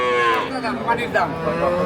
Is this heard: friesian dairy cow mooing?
yes